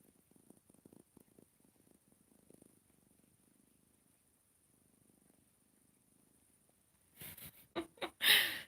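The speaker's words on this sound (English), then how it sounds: "See if we can get some purrs in there." A soft, low purring rumble pulses steadily for a few seconds, then fades, followed near the end by a few loud bumps and rustles close by.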